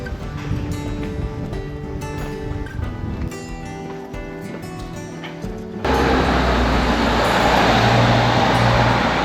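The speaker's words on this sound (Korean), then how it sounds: "내려오자마자 자동차 소음이 반겨주네요." Street traffic in Dong-gu, Busan, arrives abruptly as a loud, steady roar of passing cars that replaces the quieter music-like sound before it, filling the rest of the scene at close range.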